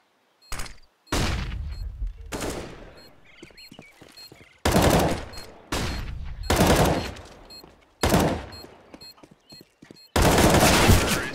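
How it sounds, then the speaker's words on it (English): Video game match gunfire: sharp bursts of automatic fire and single loud shots, several separate volleys with short gaps and decaying echoes, close and loud. "Ace gets the headshot onto Venom, but Venom eventually clutches this round out"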